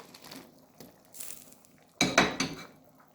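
Okra dropped into a pot of Jamaican fish tea, a few clattering, clinking knocks against the pot, close and fairly loud after a quieter stretch.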